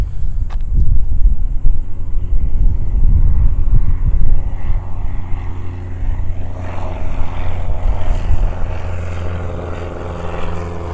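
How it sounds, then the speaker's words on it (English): A Piper PA-28 small propeller airplane roars loudly nearby as it takes off, the engine drone strong at first and then gradually fading into the distance. "the Piper PA-28 is taking off"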